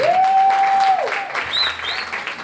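Applause breaks out at a festival event in Abidjan for the ministry and the Republic of Côte d'Ivoire, brief clapping mixed with a sustained whistle-like tone and a couple of rising squeals over the crowd.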